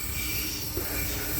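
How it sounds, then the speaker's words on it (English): A Tangara electric passenger train on a Southern service passes Penshurst station. A steady, hissing rumble of wheels and motors holds at an even level throughout, with no voices. "And I hear a Tangara right now."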